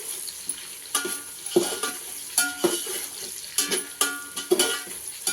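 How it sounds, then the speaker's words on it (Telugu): Onions frying in a pan for vegetable pulao, with a soft steady sizzle and regular scraping and stirring clinks of a spatula against the pan at close range. "వేసిన తర్వాత ఈ ఉల్లిగడ్డలు దూరంగా వేగాలండి"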